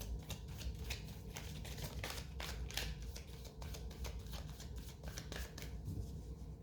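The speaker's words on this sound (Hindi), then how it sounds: "एक बार और शफल करूंगी मैं।" Tarot cards are shuffled in quick repeated riffling bursts, a faint, close papery flutter with rhythmic slaps, no talk.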